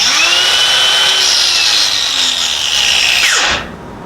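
A Hercules 20V cordless brushless 4-1/2 inch angle grinder runs at a steady high whine, loud and close, with no talk, then is switched off and spins down fast to near silence near the end.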